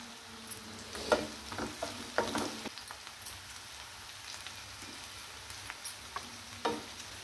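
Mustard seeds, onion, chili and curry leaves fry for upma in a pan, giving a soft steady sizzle broken by scattered crackles and a few spoon scrapes, close and fairly quiet with no voices.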